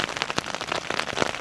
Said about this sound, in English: when I don't have all the rain coming on me